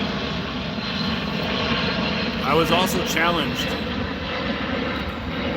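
A fixed-wing airplane drones steadily overhead throughout, loud and continuous, with a voice speaking briefly over the engine noise while out walking.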